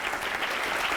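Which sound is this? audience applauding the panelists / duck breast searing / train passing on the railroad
audience applauding the panelists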